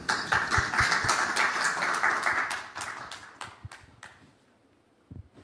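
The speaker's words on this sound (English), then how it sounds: "please welcome them with a warm round of applause" Audience applause at a People Power Party international affairs event in Seoul greets arriving speakers, a dense burst of clapping that thins into scattered claps and fades out over several seconds.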